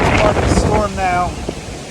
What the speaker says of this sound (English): Very, very, very windy.